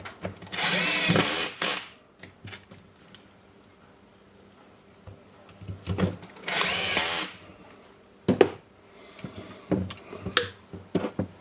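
A power drill drives screws into the housing of a Makita oscillating multi-tool during repair, with two loud whirring bursts of a few seconds each, separated by quiet handling, then clicks and knocks of parts being fitted.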